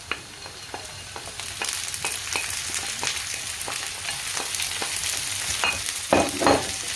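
Chicken chapati filling sautés in a pan, a close, steady sizzle and crackle that builds after a first clack, with repeated scraping stirs and a louder burst near the end.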